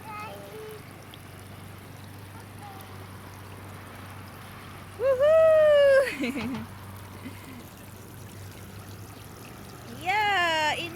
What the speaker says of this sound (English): there's a splash of water.